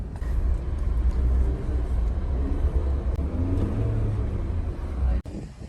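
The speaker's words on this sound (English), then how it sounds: "we climb some hill to test for the hill braking assist" A Suzuki Jimny climbs a hill off-road, its engine a steady low rumble heard from inside the vehicle, with occasional bumps and knocks over the rough ground.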